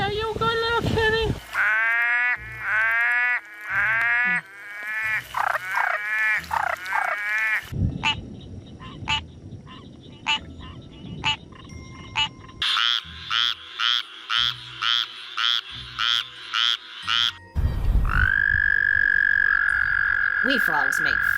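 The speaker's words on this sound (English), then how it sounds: "We frogs make fun noises." Frog-like croaking calls arrive in rapid, repeated bursts of rhythmic, strongly pitched honks and chirps, interrupted by a noisy stretch of scraping before the croaks return faster and then give way to a long, steady tone.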